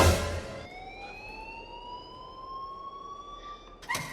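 An alarm rings steadily in the Life Is Strange video game, a sustained electronic tone slowly rising in pitch for several seconds with no talk over it.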